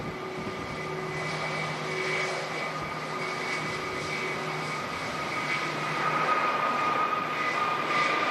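An easyJet Airbus A320neo jet airliner departs Manchester Airport in strong storm winds, its steady engine roar loud and continuous under gusting wind, with tonal whine bands held throughout.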